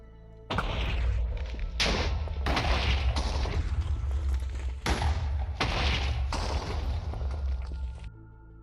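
Dynamite detonating in the Minecraft video game, a quick series of heavy blasts and rumbling thuds rolling over one another for about eight seconds, loud and close with no talking.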